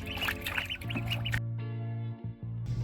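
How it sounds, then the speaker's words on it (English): Young ducks call repeatedly up close, a run of bright, busy peeping quacks that keeps going with only short pauses and no talking. "These are my ducks."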